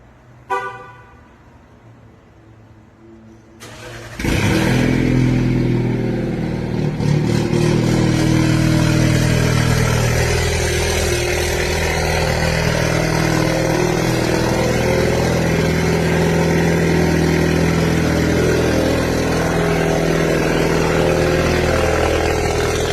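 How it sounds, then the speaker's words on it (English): An Alfa Romeo Giulia Q4 fitted with a downpipe exhaust starts up in a parking garage, a sharp bark leading into a loud, sustained, booming drone that reverberates off the concrete for the rest of the clip. "exhaust on my Giulia Q4. We're here in a parking garage because I want to show you just how loud this is."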